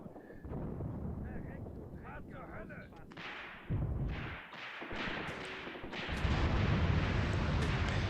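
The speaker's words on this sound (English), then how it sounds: "the heavy artillery, Soviet artillery, continues to fall in the hill" Soviet heavy artillery shelling a hill in the video game Graviteam Tactics: Mius Front, a continuous rumbling barrage of booms and distant impacts that swells louder toward the end, with someone talking over it.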